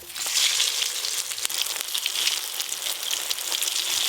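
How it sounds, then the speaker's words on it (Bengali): Potatoes fry in hot oil in a pan for mutton biryani, a dense, continuous sizzle with scattered crackles, close and fairly loud. "এবার আলুগুলো ভেজে নেব।"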